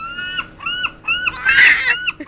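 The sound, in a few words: baby imitating seagull calls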